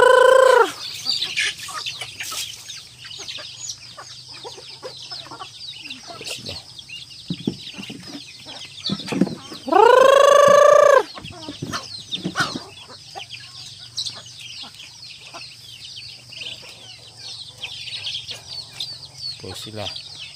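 Hungry chickens clucking on a farm, with repeated close clucks and a loud crow around the middle, busy and uneven, amid other bird calls and some background talk.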